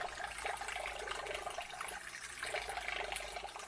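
An ANZESER 3500 RPM magnetic stirrer spins water into a vortex, a soft, steady swirling and sloshing like a running tap, faint and continuous.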